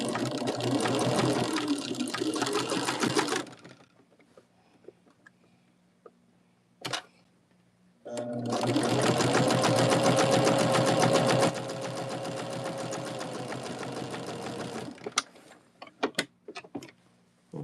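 A sewing machine stitching seams on either side of a line on a quilt block, running in two long stretches separated by a quiet gap, followed by scattered handling clicks and bumps.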